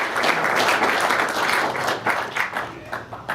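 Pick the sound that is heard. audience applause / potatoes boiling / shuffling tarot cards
audience applause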